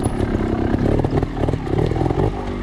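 Trials motorcycle engine working hard as the bike climbs over rocks, a steady close mid-pitched drone with rises and dips in revs and some clattering, heard alone with no voices.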